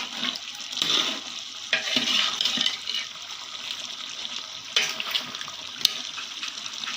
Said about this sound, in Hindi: घी डाल के फिर हम भूनेंगे।